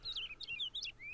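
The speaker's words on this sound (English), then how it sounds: "Some birds that spend their whole lives in cages." Caged birds in the video game Nevermind chirp in a quick series of bright, sweeping tweets, one after another, over a low hum.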